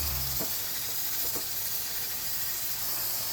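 Pressure cooker on the stove hissing as steam escapes, a steady loud broadband hiss throughout with a couple of faint low thumps early on, close and continuous with no talking.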